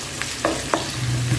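Whole cardamom, cinnamon sticks, bay leaves and cloves frying in a pan with onion are stirred, a spoon scraping in three quick strokes over a steady, close sizzle.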